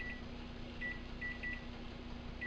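Kitchen timer being set for pasta cooking, giving several short electronic beeps in an uneven pattern over a steady low hum.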